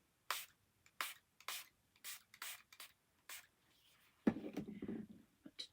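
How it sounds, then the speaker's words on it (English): Aerosol spray paint hissing onto a steampunk craft piece in repeated short bursts, about seven quick sprays with brief pauses, close and fairly loud, followed by rustling handling noises. "I'm going to spray that again."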